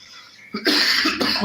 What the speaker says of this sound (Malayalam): ചുമ പിടിച്ച് കഴിഞ്ഞാൽ വല്ലാതെ കുഴപ്പിക്കാണ് കേട്ടോ